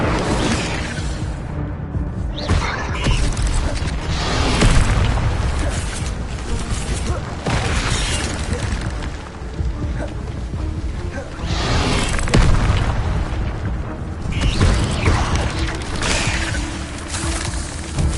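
Incendio fire spell cast during Hogwarts Legacy gameplay on PS5, a dense run of loud whooshing bursts and booming blasts repeating across the whole stretch with no pause.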